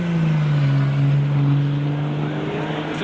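Car revving hard for a burnout at a rainy Japanese car meet, a loud, sustained engine drone close by that holds a steady pitch and then fades slightly.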